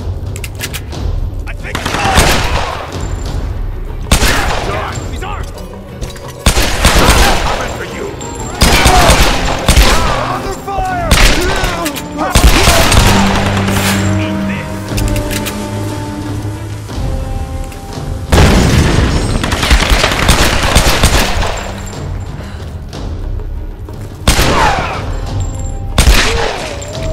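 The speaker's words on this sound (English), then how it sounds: "Who's shooting? Take cover!" Repeated bursts of gunfire and booming blasts in the PS4 Pro video game Tomb Raider, at a cliffside bunker, come in loud clusters of rapid shots with pauses between, while voices speak amid the shooting.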